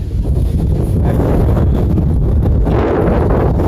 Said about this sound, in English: that wind is really a whipping